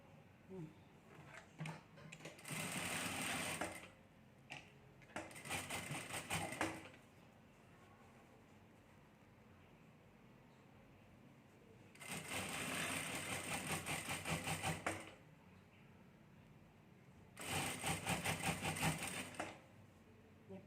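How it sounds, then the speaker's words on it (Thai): A sewing machine stitches patterned fabric in four separate runs of two to three seconds each, loud and close, with quiet room pauses between the bursts. "เย็บปาดขึ้นมาเลยนะคะ ตรงนี้นะคะ มันจะได้ พอดีกับตรงที่เราเย็บไว้เนี่ย"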